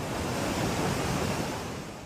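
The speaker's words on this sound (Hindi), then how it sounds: "लहरों का ये शोर डरा रहा है" Roaring floodwater waves during heavy monsoon rain in Poonch, Jammu and Kashmir, a dense, continuous loud rushing surge that fills the clip without a break and fades slightly at the end, with no voices.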